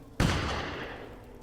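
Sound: gunshots in a video game

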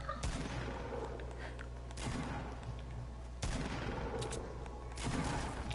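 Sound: gunfire in a video game

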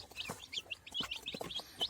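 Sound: newly hatched chicks chirping

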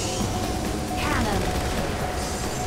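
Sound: cannon fire in a PS3 video game

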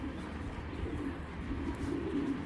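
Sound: pigeon

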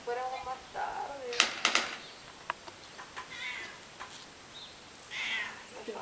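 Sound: cat meowing

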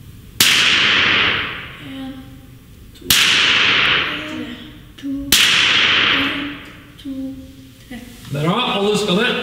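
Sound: rifle shot at shooting school

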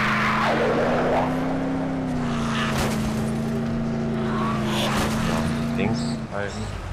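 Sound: car driving in the video game Dead Island Riptide

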